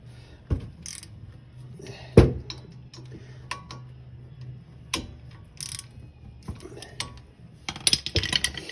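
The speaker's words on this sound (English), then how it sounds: "I'm gonna come back with my 1/2" ratchet and give it a good snug." A 1/2-inch ratchet snugs a bolt during a front brake pad and rotor job on a 2018 Mitsubishi Mirage G4, with sparse, irregular clicks and a few sharper metallic knocks at close range.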